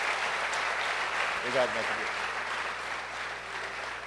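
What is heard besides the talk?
congregation applause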